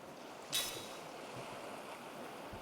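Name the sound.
ocean waves from the video game Lost Odyssey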